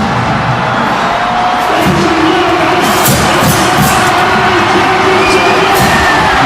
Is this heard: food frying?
no